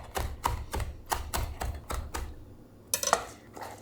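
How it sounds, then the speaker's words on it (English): A knife roughly chopping fresh basil leaves on a board, a steady run of about eight close, dull taps at an even rhythm, then a short pause and a couple of sharper knocks. "Everyone's probably cringing at how I'm cutting up this basil right now."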